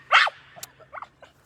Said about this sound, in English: I'm trying to calm down my dog